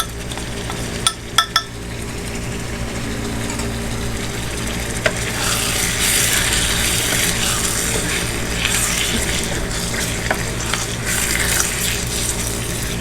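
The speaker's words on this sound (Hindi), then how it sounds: "और गोश्त को अच्छे से भूनेंगे चिकन को" Chicken fries in a pan with whole black pepper and salt, a steady close sizzle and crackle, with a few sharp clicks of utensils early on.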